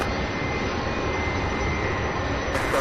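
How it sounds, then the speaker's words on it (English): An MD-11 jet taxiing at Louisville SDF airport gives a steady, loud engine roar with a broad, continuous rush that holds evenly throughout. "Surely we'll get one or two of these MD-11s that are taxiing."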